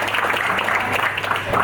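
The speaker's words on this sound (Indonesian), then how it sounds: "Boleh beri tepuk tangan untuk beliau." Brief burst of audience applause at a national dialogue event in Sukabumi, dense steady clapping from a hall crowd over a short moment.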